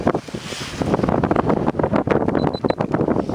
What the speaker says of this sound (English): Probably just blustery noise from the wind.